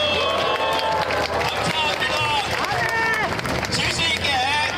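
Crowd at an outdoor rally against a discrimination law in Geoje claps and cheers steadily, a dense wash of applause running throughout with a voice speaking over it.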